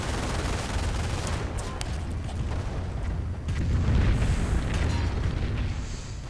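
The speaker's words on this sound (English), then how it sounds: "The Pershing blasts away, and a Calliope barrage is sent in return." Pershing tank cannon fire and a Calliope rocket barrage in a World War II strategy video game, a dense, continuous roar of overlapping booms and gunfire with heavier rumbling blasts near the end.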